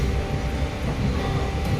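A passenger train rumbles along steadily from inside a carriage on the line out of Siddipet toward Duddeda station: a continuous, fairly loud broadband roar with faint rhythmic knocks and no voices.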